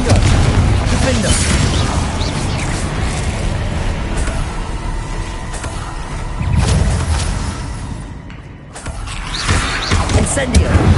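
Spell blasts from Confringo and Bombarda burst repeatedly in Hogwarts Legacy, loud booming impacts layered over dense game effects, with a brief drop near the end before the noise surges back while a voice speaks throughout.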